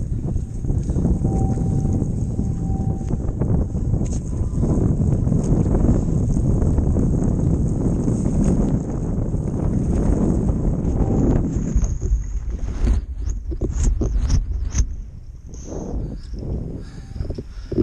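A gust of wind hits while sailing a boat, a loud, steady roar of wind buffeting the microphone that eases off briefly with some rattling near the end.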